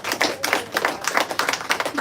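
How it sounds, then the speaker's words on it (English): A small audience clapping in a quick, uneven patter of close, sharp hand claps that lasts only a couple of seconds. "Clap it up again for yourself"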